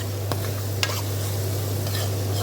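Pieces cooking in a pan are stirred with a utensil, giving a few soft scrapes over a steady low sizzle, close and alone with no talking.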